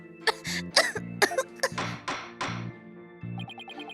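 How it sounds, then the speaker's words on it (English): A nervous character's short throat-clearing coughs in the courtroom game Phoenix Wright: Ace Attorney Dual Destinies, several sharp bursts in quick succession over soft game music, followed by a brief musical sting. "Do you always cough when you get nervous, Ms. Woods?"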